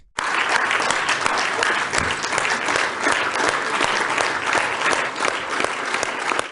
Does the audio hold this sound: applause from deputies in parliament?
yes